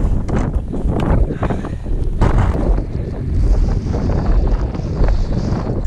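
Strong, gusty mountain wind in the Tatras roars and buffets the microphone throughout, with loud low rumbling surges rising and falling and no voices.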